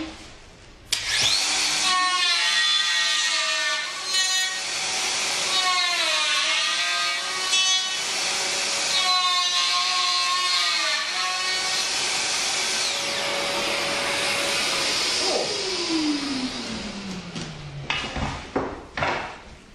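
Festool VS600 jointing system routing a wooden workpiece with a dust extractor running: a sharp start, then a sustained whining cut with shifting pitch for about fifteen seconds, winding down to a falling tone and clatter at the end.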